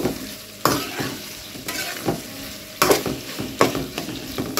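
Ginger garlic paste frying in a pan for bitter gourd curry, a close sizzle broken by repeated stirring scrapes in an uneven rhythm, no talking.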